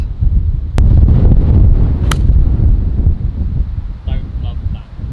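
Strong gusting wind on an open golf course buffets the microphone with a loud, continuous roar that rises and falls, and a few brief clicks cut through it.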